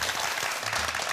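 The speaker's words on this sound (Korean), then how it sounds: "박수 부탁드릴게요." A studio audience on a television talk show about traditional Korean performing arts claps steadily, a dense, even burst of applause filling the short moment.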